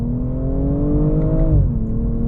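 A 2022 BMW M240i in Sport Plus mode accelerates hard, its engine note climbing steadily in pitch, then a quick dip and recovery as it shifts gear, loud and close with no talking.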